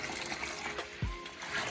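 Water is poured onto a bleached shirt to rinse it, a soft close trickle and splash with a sudden heavier gush about a second in, quiet overall with faint background noise.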